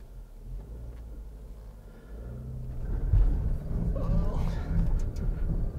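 A 2020 Subaru Outback XT drives off-road through deep snow and mud, its engine rumble swelling as it works harder with wheel spin, close and building, with a faint voice briefly heard.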